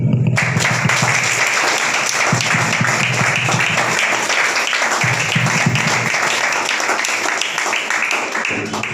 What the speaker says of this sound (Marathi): रेखाताई घालतील संतोषरावांना जोरदार टाळ्या.